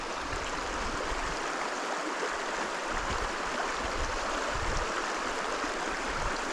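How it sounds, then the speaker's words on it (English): A fast-flowing mountain stream rushes in a continuous, dense wash of water, close and steady from start to finish with no other sounds standing out. "Water's moving fast, big dip."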